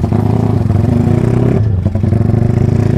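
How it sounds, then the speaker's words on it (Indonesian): A Honda Tiger motorcycle fitted with an aftermarket carburetor idles loud and close while warming up, its engine throbbing steadily with a short dip before the revs pick back up. "Enaknya karburator ini nggak perlu dipanasin lama-lama."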